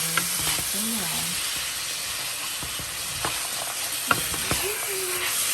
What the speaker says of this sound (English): start mixing the green peppers and onions